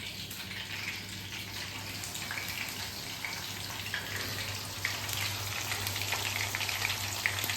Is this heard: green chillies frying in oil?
yes